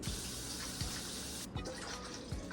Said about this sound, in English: I grabbed the 2 cups of very warm tap water that we need